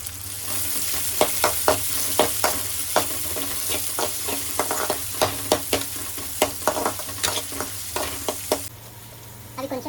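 Chopped onion fries in hot oil in a pan for wet cabbage manchurian, a loud steady sizzle broken by rhythmic scraping stirs of a spoon, close up, until the sound cuts off near the end.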